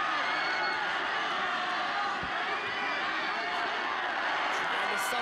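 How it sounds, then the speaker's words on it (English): Arena crowd at a ONE Championship women's MMA bout roaring and cheering steadily, a dense wash of voices with whoops rising as knee strikes land, commentary running over it. "You can hear the crowd there barking and cheering every time Priscilla landed those knees"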